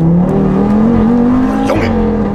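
An Audi RS3 with a five-cylinder turbo engine revs loudly and close by, its rising engine note climbing steadily, with brief crackling bursts near the end.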